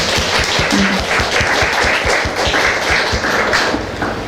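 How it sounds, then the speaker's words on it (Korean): A church congregation applauds in encouragement for a child named Ana, many hands clapping in a brisk, steady rhythm that stays loud and full for the whole stretch. "우리 아나를 위해서 격려의 박수 좀 불러주세요"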